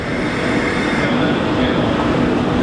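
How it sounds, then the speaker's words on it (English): A passenger train roars past close by at Broadstairs station, a loud steady rush of wheels and rail noise with no speech. "What type of train is it?"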